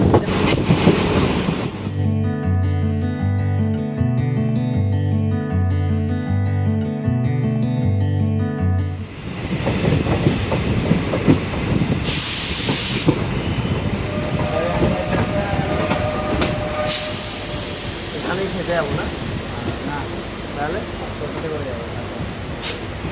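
A passenger train on the Dooars line approaches Damdim railway station, starting with a loud steady tonal hum and horn-like harmonic blare, then rumbling and rattling closely as wheels roll along, with voices talking over it.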